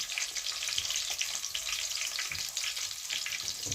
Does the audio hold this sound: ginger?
yes